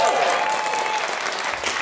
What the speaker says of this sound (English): please, some pity applause